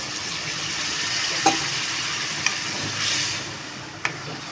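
Egg tikka masala frying in a pan with water just added, giving a steady close sizzle and hiss with a few sharp spoon taps and stirring knocks.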